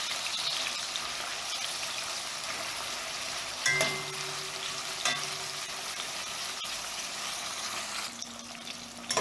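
Seasoning and fresh herbs sauté in a pan with a steady, moderately loud sizzle, punctuated by a few sharp utensil taps and scrapes.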